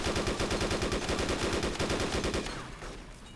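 Rapid automatic gunfire rattles continuously at a tractor in DayZ, a fast close burst of evenly spaced shots lasting a few seconds before tapering off.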